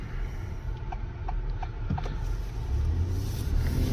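An Acura MDX engine in sport mode revs steadily, a low rumbling drone that builds slightly louder toward the end, heard from inside the car without talk.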